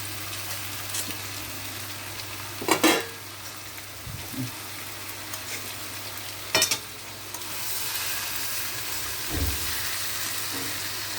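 Potatoes frying in a pan for a curry: a low steady sizzle punctuated by a few brief scrapes and knocks of a spoon against the pan, close by, with no talk.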